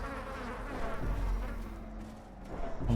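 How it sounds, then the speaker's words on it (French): In a video game dungeon, a mosquito drones with a thin, wavering buzz that stays steady for a few seconds beneath a low ambient hum, moderately loud, with no talking. "En plus il y a des bruits de moustiques et tout"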